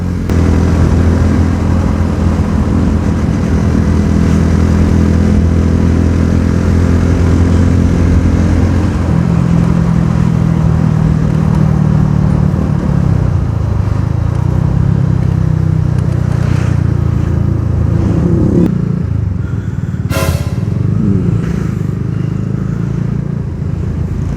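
Motorcycles on a group touring ride pass and overtake on the left, their loud, close engines droning continuously while the pitch shifts and climbs with revving throughout.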